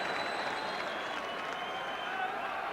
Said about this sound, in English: generous applause for that